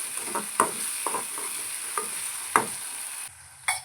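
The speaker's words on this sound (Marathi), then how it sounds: "टोमॅटो हे सगळं पूर्ण टोमॅटो सॉफ्ट होईपर्यंत भाजून घ्यायचं आपल्याला" Chopped onion and tomato sizzle in a pan while a spatula stirs them, with sharp scraping strikes breaking through a steady frying hiss; no voices.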